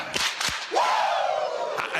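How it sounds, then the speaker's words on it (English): Two sharp hand claps ring out in quick succession, followed by a loud, sustained Ric Flair-style 'woo' shout from a podcast host, with a final clap trailing at the end. "Give me 2 claps and a Ric Flair"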